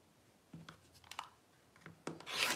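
Scissors or a rotary cutter trimming small quilt block fabric pieces, giving a few soft rasping snips spaced across the moment, then a brighter, louder burst of cutting at the end; close, quiet and without talk.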